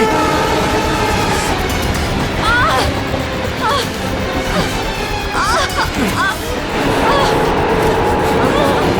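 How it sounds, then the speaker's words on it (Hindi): A train gathering speed gives a loud, steady rolling rumble that fills the whole stretch, with brief tonal calls rising above it now and then. "ट्रेन स्पीड पकड़ चुकी है।"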